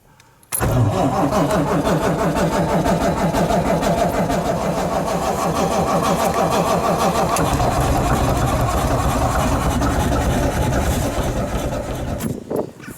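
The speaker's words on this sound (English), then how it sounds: "for some reason the engine isn't starting and Steve's just checking a sample" A kit-built airplane's diesel engine cranks loudly and steadily for about twelve seconds without catching, a continuous churning drone that cuts off near the end.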